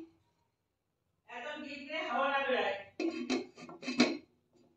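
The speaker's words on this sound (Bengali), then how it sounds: "ঢাকনাটা দিয়ে দিলাম" A metal lid is set over a cake pan on a hot tawa, giving a few close clinks and clatters after a stretch of talking.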